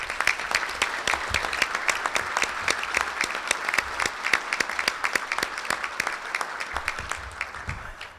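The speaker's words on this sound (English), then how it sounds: "Let's give them both a round of applause." A crowd at an awards dinner claps steadily in sustained applause, dense and fairly loud throughout, tapering slightly at the end.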